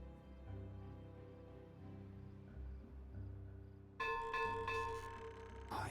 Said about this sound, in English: I hear the bell ring as the workday begins